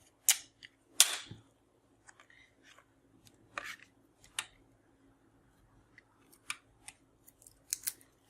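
Sharp scissor snips trimming gold thread on the back of a handmade Spirelli Christmas card, a few close crisp cuts with pauses between, the first two louder, in a quiet room.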